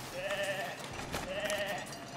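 Baby sheep bleating in the village-building game Foundation, two wavering, nasal bleats close by with a short gap between them, over quiet ambient background.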